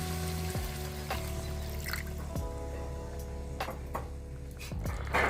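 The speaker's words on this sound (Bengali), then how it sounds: "ঢাকাটা খুললাম এবারে দিয়ে দেব এক কাপ মতো জল" About a cup of water poured into a simmering rohu fish curry makes a close, gurgling pour with rising tonal glugs and drips over several seconds, with no talking.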